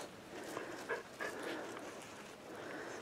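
A puppy whimpers and yips in short, soft bursts close by, amid quiet indoor room noise.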